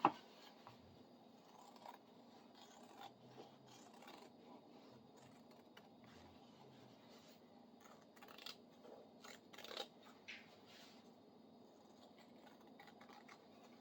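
Quiet, close snipping and crisp cutting of fabric with scissors comes in short irregular bursts, with soft rustling between them and no talking.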